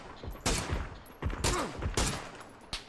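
Bursts of rifle fire in the battle royale shooter PUBG, several sharp, loud cracks spaced across a few seconds with fainter shots in between, heard alone without talk.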